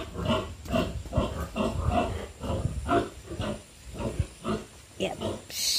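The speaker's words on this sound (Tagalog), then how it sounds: "Maraming baboy." Many pigs grunting along a village path in the Philippines, repeated short rough grunts in an irregular rhythm at close range, with a hiss near the end.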